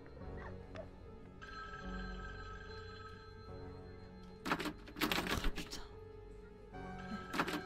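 A telephone rings in a Halloween horror video game based on Michael Myers, a steady electronic ringing tone held for several seconds, faint under clicks, thumps and a voice talking.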